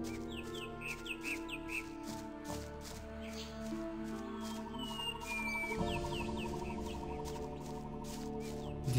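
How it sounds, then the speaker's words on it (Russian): Nightingales singing in the video game Gothic, with repeated bright chirps and warbling phrases over a layered ambient background drone, continuous and moderately loud. "Соловьи поют."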